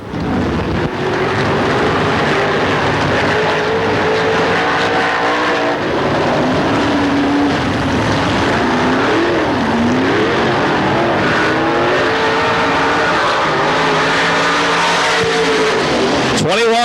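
Dirt track race cars roar through a qualifying lap at the 1997 Dirt Track World Championship, a loud sustained engine drone with rising and falling pitch sweeps as cars pass, wind buffeting the microphone and a commentator talking over it.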